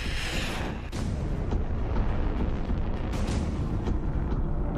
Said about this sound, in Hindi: पुतिन यहाँ मॉस्किट मिसाइल लॉन्च कर रहे हैं